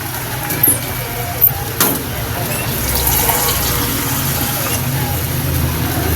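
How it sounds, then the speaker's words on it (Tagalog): Water poured into adobong manok (chicken adobo seasoned with soy sauce and oyster sauce) simmering in a pan, a steady broadband pour and sizzle that runs through the whole stretch with a few brief clatters early on. "Lalagyan na natin siya ng tubig."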